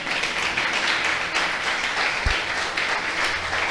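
A church congregation applauding the Lord during a sermon: dense, sustained clapping from many hands for nearly four seconds, fairly close and steady, with a low thump partway through.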